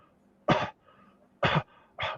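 A voice imitates a coughing zombie with three harsh, separate coughs, close and fairly loud, spaced about a second apart with quiet between.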